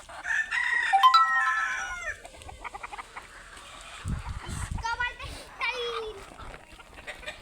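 A fighter rooster crows loudly at close range, a long strained call followed by clucking and shorter calls, while people talk nearby.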